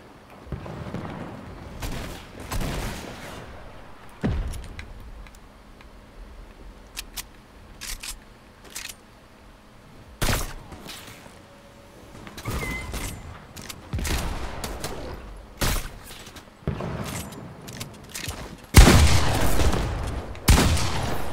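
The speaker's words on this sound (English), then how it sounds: "Oh, someone's shooting." Gunfire in the Fortnite video game comes as scattered sharp shots and short bursts, spaced irregularly with quieter gaps between. A louder cluster of shots closes it out.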